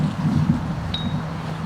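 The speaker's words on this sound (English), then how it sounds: "And it's windy" Steady wind rushes and buffets the microphone at an outdoor 9/11 remembrance ceremony, a low continuous rumble with no voices.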